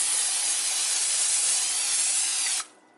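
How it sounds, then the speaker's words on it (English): Cooking spray hisses from a can onto marshmallows laid in a cooking pan, one loud continuous spray held for over two seconds before stopping abruptly. "Then you want to spray it with some granola spray"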